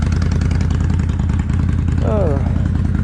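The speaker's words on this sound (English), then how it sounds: "I'm just going to let it sit here and idle" A Kawasaki Vulcan 800 Classic motorcycle engine idles steadily with a low, even throb throughout, loud and close, while a person talks over it.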